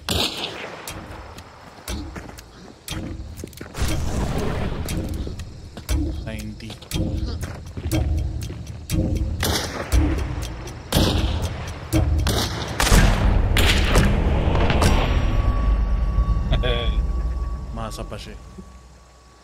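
Gunfire in the Hunt: Showdown video game, a series of sharp shots and bursts scattered through the stretch with mechanical clicks between them, while people talk over much of it.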